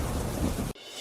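Dense, heavy monsoon rain roars in Gujarat, then cuts off abruptly to a quieter patter; no thunder stands out.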